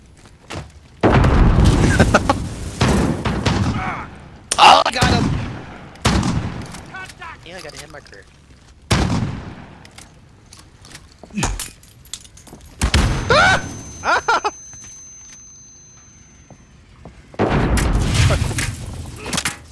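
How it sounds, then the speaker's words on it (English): Heavy shotgun blasts in Rainbow Six Siege gameplay, several loud booming shots in irregular bursts with quieter gaps between, mixed with game noise and occasional voices. "I'll get him with my sniper shotgun."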